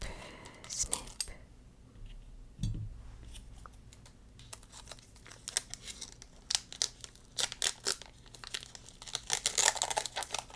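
A Black Bolt Pokemon trading card pack being opened up close: crisp foil crinkling and tearing in quick bursts, with soft whispering and light handling clicks.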